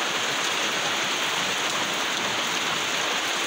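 Light rain falls steadily on a cloudy, windless morning, a soft, even hiss of drops spread across the whole stretch with no voices or other sounds.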